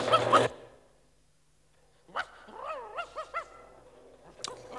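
A dog gives a few short barks and yips at a moderate distance, separated by quiet pauses, in an otherwise still setting.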